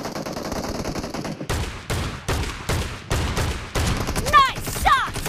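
Gunfire in PUBG Mobile team deathmatch: a string of loud, evenly spaced single shots, about half a dozen in a row, with brief game effect sounds near the end.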